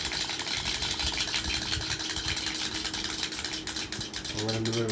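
A small motorized toy runs with a continuous buzzing, whirring motor and rapid clicking mechanism, close and steady throughout, while a person talks over it.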